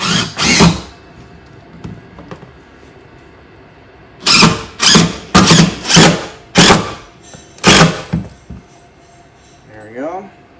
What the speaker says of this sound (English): Now that we pre-drilled, we can put our screws in.